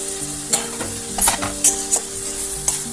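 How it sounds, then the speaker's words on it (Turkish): Ground meat sizzles loudly in a hot pan without added oil while a spoon stirs and scrapes it in a few short strokes, close up and with no voices. "Kıymamız çok güzel kavruldu. Kesinlikle içine yağ koymuyorum. Bu yağsız kavurma."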